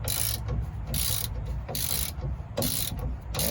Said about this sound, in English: I'm gonna just keep going side by side and tightening these up until that bottom clamp meets that one, or that bottom leaf spring